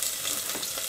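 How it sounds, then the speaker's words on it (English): Food sizzling hard in a pan on a portable butane camping stove, a dense, close, steady crackle and hiss with no break and no voices. "sizzling away already. It doesn't take long for these butane stoves to"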